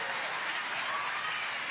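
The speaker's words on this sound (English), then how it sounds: "And usually you don't get just the crowd just revved like crazy in singles" Steady applause from a crowd at a pickleball singles match, dense clapping that stays even and fairly close throughout without a break.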